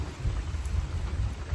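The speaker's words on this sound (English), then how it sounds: "another thunder" Steady rain falls during a thunderstorm while a low thunder rumble rolls underneath, fairly quiet and continuous with no talking.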